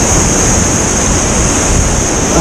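Ocean surf breaks on the shore while fishing for bluefish, a loud steady wash of waves mixed with wind buffeting the microphone, with no talk.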